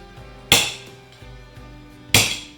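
Two sharp metallic hammer strikes on a construction screw punching a hole in a resealable paint can, loud and close, about one and a half seconds apart, with quiet room noise between them.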